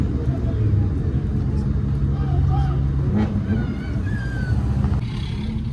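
Car engine idling at a 7-Eleven car meet with a steady low rumble, people talking over it and the general hubbub of the crowd around it.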